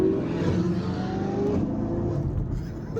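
A Ferrari accelerating hard, recorded on a phone from a nearby car, its engine a loud sustained roar with rising revs over a few seconds, alone with no talk.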